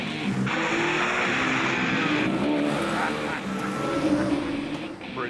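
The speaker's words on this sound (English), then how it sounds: "all we need now is a convertible car" A convertible car drives on a wet track, its engine loud and steady with tyre hiss throughout, and a voice speaking over it.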